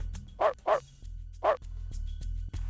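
A stray dog attacking a pangolin barks three times in sharp, close yelps, two in quick succession and one after a pause, over a low background hum.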